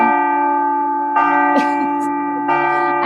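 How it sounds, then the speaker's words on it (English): A loud bell in Athens rings close by with long sustained tones, struck again partway through, its resonant hum filling the whole stretch. "the bell is ringing"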